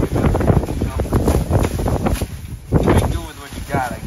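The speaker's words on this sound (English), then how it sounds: "It's really windy" Heavy wind buffets an outdoor microphone in loud, continuous rumbling gusts, with a person talking throughout.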